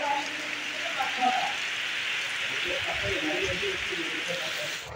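Rain falls steadily in a rural village during the rainy season, a constant broad hiss of drops on surfaces, with faint scattered background sounds beneath it.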